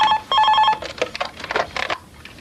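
A mobile phone rings with a bright electronic tone in two short bursts, followed by a scatter of clattering handling noises as it is picked up.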